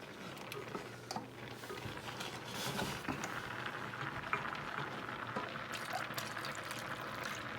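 Milk poured into a pot while making mac and cheese in a school kitchen class, a soft continuous liquid trickle and slosh with light clicks and taps of utensils, fairly quiet throughout.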